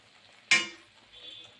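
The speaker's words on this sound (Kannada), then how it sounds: "ನೋಡಿ ಇವಾಗ ಅವಲಕ್ಕಿನ ಹಾಕ್ತಾಯಿದ್ದೀನಿ" Poha (avalakki) tipped and stirred into a pan for Panch Kajjaya, a single sharp scraping rustle that fades over a quiet background.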